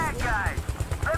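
Rapid automatic gunfire from a firefight in the military shooter game Battlefield Bad Company 2, a steady rattling burst of shots running throughout with a voice talking over it.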